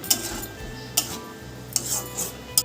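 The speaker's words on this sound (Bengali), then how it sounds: "এবার সব কিছু একটু কিছুক্ষণ সময় ধরে একটু কষিয়ে নেব" A spatula scrapes and clicks in a pan as spices are stir-fried with a little water for egg curry, a few sharp metallic taps spaced over a low steady sizzle, close and without speech.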